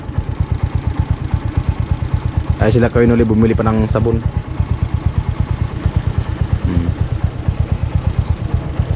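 A motorcycle's engine thrums steadily up close with a regular pulsing beat. Someone talks over it for about a second and a half, and a brief call comes later.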